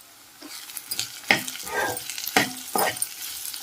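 Mushrooms frying with onion, ginger-garlic paste and cashews in a pan, heard as repeated scraping stirs and bursts of sizzle at close range with no talking.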